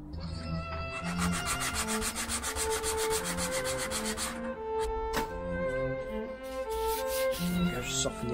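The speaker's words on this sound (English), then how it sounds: "So I'll sand off my pencil mark." Steady back-and-forth rubbing of sandpaper on wood, sanding off a pencil mark, rhythmic and close, continuing for several seconds before slowing into a few softer strokes.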